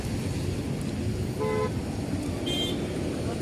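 Steady road traffic rumbles throughout, with a short car horn toot standing out midway and another higher honk soon after, moderately near over the constant roar.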